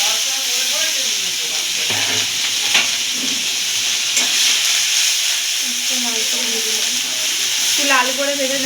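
Onion paste fries in hot oil with dry red chillies and whole garam masala for a yogurt catla fish curry, a loud, constant sizzle and hiss broken by stirring scrapes, with faint voice-like tones underneath.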